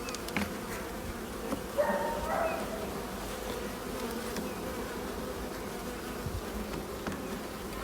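Honeybees in an open hive colony drone in a steady, dense buzz that fills the whole stretch, close and even, with a few louder swells as frames are handled.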